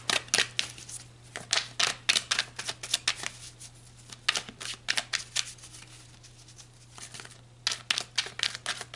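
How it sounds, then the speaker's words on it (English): Tarot cards shuffled and drawn in a tarot reading, with a long run of close, crisp riffling and slapping bursts in uneven rhythm, fairly loud over a low steady hum, with no talking. "So let's pull more cards."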